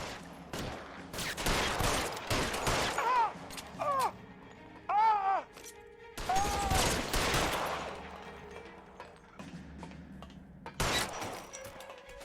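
Gunfire in the PS4 game L.A. Noire: repeated bursts of shots, some in rapid fusillades, scattered across the scene with a voice talking in between and some game music and effects underneath.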